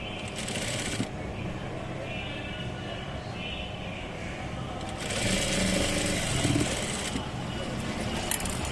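A tailoring sewing machine stitching cloth for an insert piece, in short continuous runs with pauses between, fairly quiet and close.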